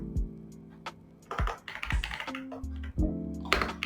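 Keys clatter on a computer keyboard in quick uneven taps, close and crisp, with a sharper press standing out among the strokes.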